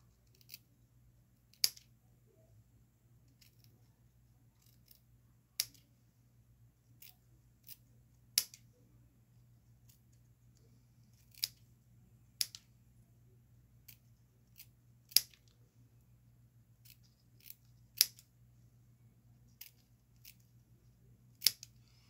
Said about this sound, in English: Okay, so now I don't need those ribbons that long, so I'm going to cut some down here.